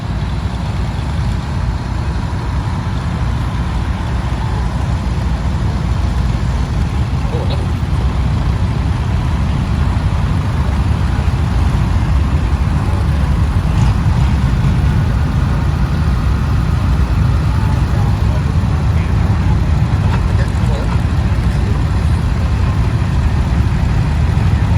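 Tractors rumble at the Wheels at Wanaka parade ground with a loud, continuous low engine drone, as several machines idle and run together outdoors. The throb stays steady throughout with no break.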